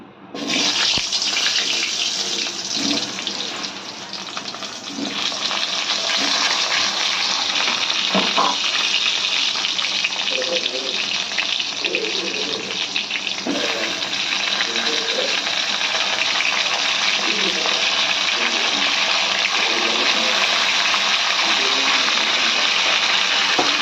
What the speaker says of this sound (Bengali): আলু এবং কাঁচকলাগুলোকে ভেজে নেব